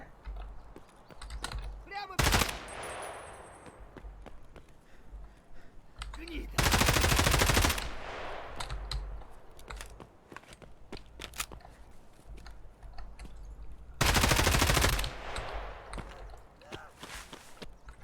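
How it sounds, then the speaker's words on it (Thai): Gunfire in the Escape from Tarkov video game: two long, loud bursts of automatic fire plus a sharp single shot, with quieter clicks and movement between, under occasional voices. "มีคนยิงจากไกลๆเลยมีคนรอยิงกูอ่ะ"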